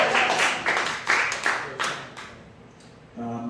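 A comedy club audience bursts into scattered clapping and laughter in several short waves that fade out, before a voice begins speaking near the end.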